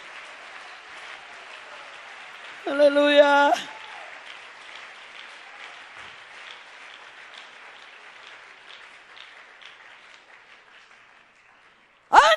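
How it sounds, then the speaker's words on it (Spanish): Church congregation applauding, a soft, distant patter of clapping running steadily under a brief loud sung tone and a voice cutting in at the end. "Dale un aplauso a Dios en esta hora."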